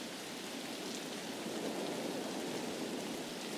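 Steady rain falling in the Escape from Tarkov video game, a soft, even hiss of drops that stays constant from start to finish with no other sounds.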